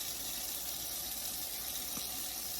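Warm water running steadily from a tap for the bath of a silicone baby doll, a soft, continuous hiss with no voices.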